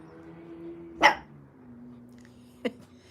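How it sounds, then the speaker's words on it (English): A dog gives two short barks, a sharp one followed by a quieter one, over a low background hum. "He's now just barking because it's fun."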